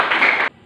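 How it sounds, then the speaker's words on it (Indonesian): A classroom of students breaks into a short burst of applause for a classmate who has just answered, a dense half-second of clapping that cuts off abruptly. "Tepuk tangan untuk Aisyah"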